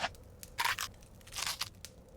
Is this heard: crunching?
yes